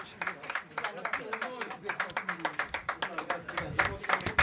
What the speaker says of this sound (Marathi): टाळ्या वाजवा सर्वांनी.